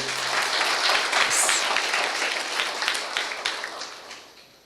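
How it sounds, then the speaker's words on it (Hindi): Loud audience applause at a stage event, a dense burst of clapping that starts strong and gradually fades over a few seconds. "जोर से अपने लिए तालियां बजाइए"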